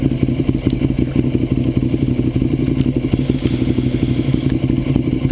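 A Ducati 848 motorcycle engine runs close by with a rapid, lumpy idle pulse and some light clattering, loud and steady throughout.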